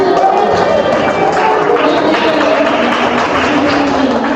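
An audience at a public-speaking practice session claps: a loud, continuous, dense patter of hands sustained throughout, with a faint murmur of voices underneath.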